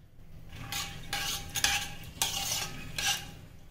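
A spoon scrapes and swirls through whole moong dal, turmeric and water in a metal pot, several stirring strokes in a quiet kitchen.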